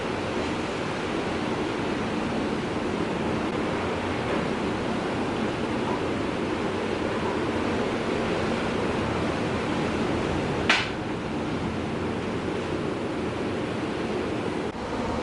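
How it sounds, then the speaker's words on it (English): Big ocean waves crash steadily onto the shore at a luxury resort in Sri Lanka, a loud continuous roar of surf with a brief sharp click near the end and no talking. "So we got some big waves crashing"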